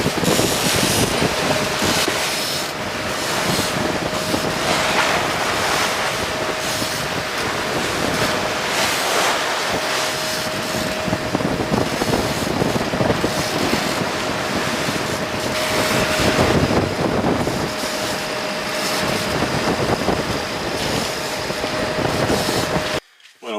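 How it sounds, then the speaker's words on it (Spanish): Strong wind roars across the microphone while sailing at sea between Cagliari and Teulada off southern Sardinia, a loud continuous rushing blast mixed with surging water, steady for the whole stretch. "Hay viento"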